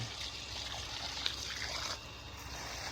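Water from watering plants outdoors trickles and splashes in a soft, continuous patter under a steady background hiss.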